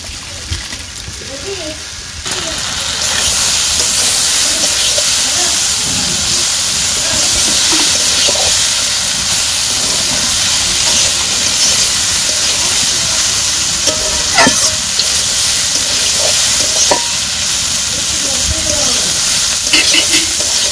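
Garlic paste goes into a pan where mustard paste is already frying, and a loud, steady sizzle starts after about two seconds and hisses without a break to the end.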